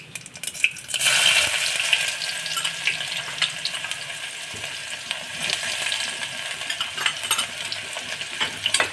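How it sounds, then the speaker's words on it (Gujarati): Chopped onions hit hot oil that has been tempered with mustard seeds, cumin and asafoetida for a cauliflower-potato curry, bursting into a loud, steady sizzle after a second and crackling on close by throughout. "ગેસને સ્લો કરી અને તેમાં આપણે સૌપ્રથમ પહેલાં ડુંગળી નાખીશું"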